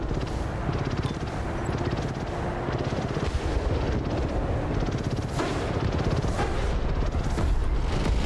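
Su-57 airstrike explosions pounding enemy long-range artillery vehicles in a combat video game: a dense, continuous barrage of heavy booms and crackling blasts, loud and sustained throughout.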